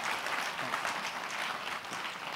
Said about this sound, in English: we could have a round of applause